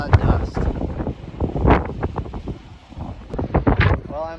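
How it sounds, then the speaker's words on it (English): Strong, gusty wind from a dusty New Mexico windstorm buffets the microphone with loud rumbling roars. Someone talks over the wind. "I'm officially in some sort of New Mexican windstorm"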